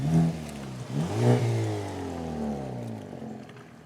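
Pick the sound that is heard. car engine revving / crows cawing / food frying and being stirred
car engine revving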